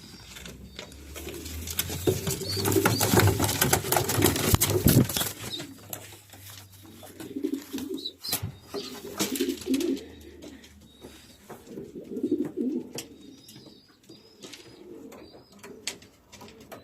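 Racing pigeons coo in low, soft, repeated murmurs close by, with a few wing flaps and scattered taps amid a noisy loft background.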